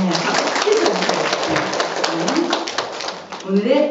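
Applause from an audience at a youth speech contest award ceremony, a dense patter of clapping heard under a voice talking near the microphone.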